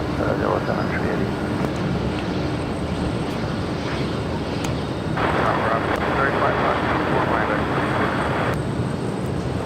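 An Air France heavy jet departs runway 24 left at Los Angeles International Airport, giving a loud continuous roar that swells midway, heard from nearby with faint background noise.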